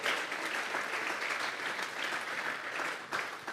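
Church congregation applauding during a worship service, sustained clapping from many hands at moderate distance, even and continuous without any voice on top.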